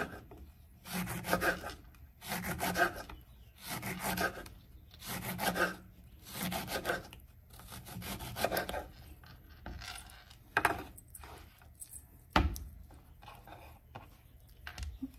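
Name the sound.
knife slicing a lemon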